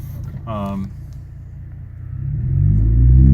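A 2015 Ford Interceptor sedan with the 3.5 EcoBoost engine pulling away in low gear: a brief voice early on, then a deep engine rumble that swells loudly toward the end.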